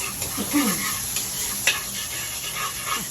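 Onion frying in hot oil and being stirred in a pan, a steady close sizzle with scraping strokes of the utensil, no talk over it.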